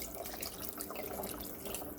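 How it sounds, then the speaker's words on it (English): Chicken broth pours into a pot of dumplings, a steady liquid stream splashing softly and close, fairly quiet. "I'm adding chicken broth."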